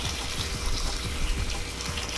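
Water poured into an egg incubator, a steady close splashing pour running unbroken for the whole stretch at moderate loudness with no talking.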